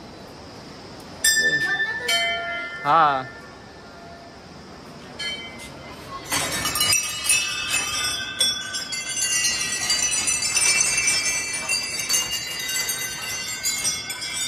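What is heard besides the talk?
temple bells ringing at Siddhapeeth Kalimath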